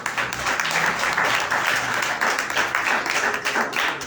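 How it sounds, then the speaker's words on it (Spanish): A church congregation applauds Christ, a thick, sustained roar of many hands clapping at once, fairly loud and unbroken, with no voices standing out. "Démosle un aplauso a Cristo"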